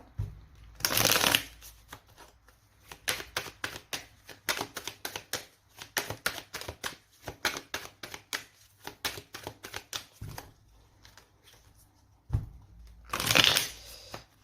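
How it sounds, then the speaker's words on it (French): Six tarot cards are shuffled and laid out on a table, a long run of quick papery flicks and riffles with louder bursts near the start and end, close and without speech. "On va poser les 6 cartes."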